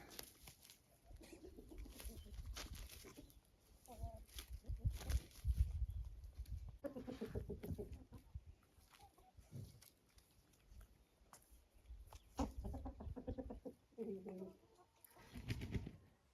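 Hens roam outdoors near their nests, giving scattered soft clucks and murmurs at moderate distance, with quiet pauses between bursts of activity.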